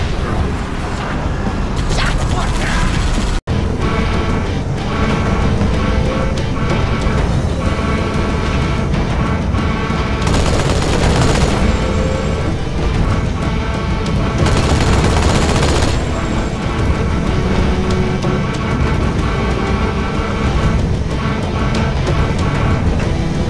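An anti-aircraft gun in a video game pounds out loud, dense bursts of rapid fire, rolling almost without pause with heavier blasts swelling in between.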